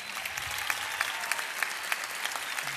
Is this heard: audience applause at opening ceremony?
yes